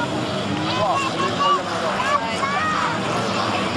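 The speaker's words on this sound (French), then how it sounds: "Le buggy, il roule très très vite le buggy" A stock-car buggy races fast at a 1999 event in Saâne-Saint-Just, engine noise whining and rising in pitch against steady crowd and wind noise, with someone talking over it.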